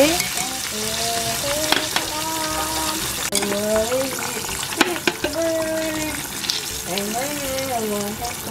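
Green tomato slices fry in a pan with a steady crackling sizzle, loud and close, while a person talks over it.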